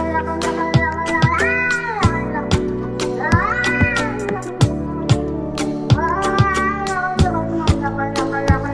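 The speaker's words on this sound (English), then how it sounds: "They're eating the cats. Meow, meow, meow, meow." A cat meows repeatedly in drawn-out, rising and falling cries over a steady backing tone, with short sharp knocks scattered between the calls.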